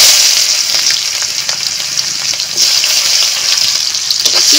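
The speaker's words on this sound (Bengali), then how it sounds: "পেঁয়াজ আমি হালকা করে ভেজে নেব।" Chopped onions fry in a kadai with dried red chillies, whole cumin and bay leaves, producing a loud, continuous crackling sizzle with slight surges and no voices.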